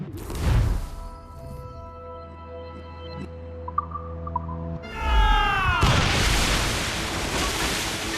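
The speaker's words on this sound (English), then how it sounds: "Use explosive shot to slow her!" Ship cannons firing explosive shot during a naval battle in Assassin's Creed Rogue: a deep boom, then after a lull a second heavy blast that swells into a long roaring, crashing rumble with whistling tones.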